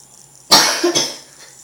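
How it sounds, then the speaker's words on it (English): After a moment of quiet, a person gives a sudden harsh cough followed by a second smaller one, close by. "It's making me cough."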